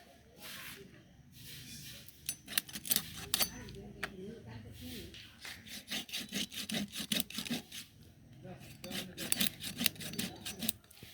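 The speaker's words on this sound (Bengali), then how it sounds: "এই যে আমি এভাবে মাংসগুলো পিস পিস করে কেটে নিচ্ছি" A knife saws and scrapes through tough rooster meat and skin in repeated rasping strokes, uneven in rhythm and loudness, up close, with a voice talking over it.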